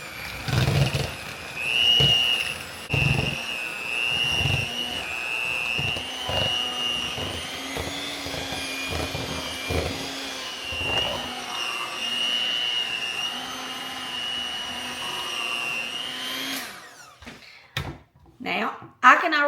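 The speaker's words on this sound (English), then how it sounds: "I have my hand mixer here, and we're just going to start mixing it up till it's smooth." A handheld electric mixer whirs steadily through a milk batter, a sustained motor hum with rhythmic low beater thumps, close and continuous before cutting off near the end with a few clatters.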